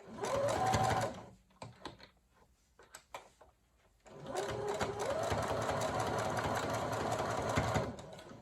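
A sewing machine runs in a fast, steady whir while stitching a rounded ruffle, pausing for a few seconds of quiet handling and clicks before a long second burst of continuous stitching.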